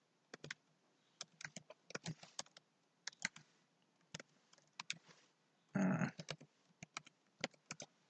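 Keys clatter on a computer keyboard in irregular bursts of quick taps with short pauses, fairly close and clear, with one louder run of rapid strokes near the end and no talking.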